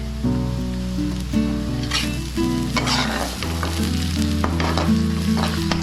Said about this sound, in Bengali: এবার যখন আমার পেঁয়াজ ভাজা হয়ে গেছে গিয়ে এখন আমি দিব আদা রসুনের পেস্ট।